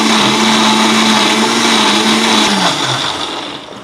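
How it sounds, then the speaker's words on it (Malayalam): Electric mixie blender whirring loudly up close as it mixes a Sharjah shake, a steady motor drone that winds down in the last second, no talk. "നമ്മൾ മിക്സി ഓൺ ചെയ്ത് മിക്സ് ചെയ്യേണ്ടതാണ്"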